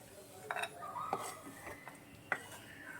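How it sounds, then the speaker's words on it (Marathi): Dry fruits roasting in ghee in a kadhai are stirred with a metal spoon, giving a few sparse clinks and scrapes against the pan, quiet and close, with long quiet gaps between strokes. "तूप थोडंसं वितळलं की त्याच्यामध्ये आपण ड्रायफ्रूट्स ना चांगले परतून घ्यायचे आहेत"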